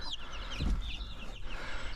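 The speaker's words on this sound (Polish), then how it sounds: "Ostatni kurczak, najbardziej cwany kogut już trafia do kurnika." Chickens cluck nearby in short, scattered calls as the last rooster goes into the coop, with a soft thump partway through and a quiet farmyard background.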